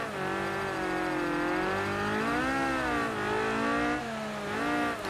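A Ford Escort rally car races in the video game Gravel, its engine revving steadily with rising and falling pitch through gear changes, loud and continuous with no talk.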